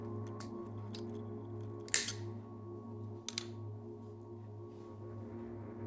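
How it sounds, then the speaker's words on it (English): A pincer grips and pulls the end cap off a bicycle brake cable, giving two short metallic snips and clicks over a steady low electrical hum. "Now with a pincer, we remove the end of cable end cap."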